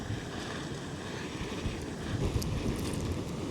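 A soft, steady wind rushes and gusts through a forest in the background, swelling slightly toward the end.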